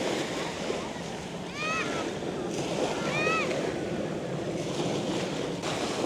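Surf at high tide on Boracay's back beach during the habagat season, a steady wash of breaking waves with wind buffeting the microphone, while a few bird-like chirps come through and voices are faint.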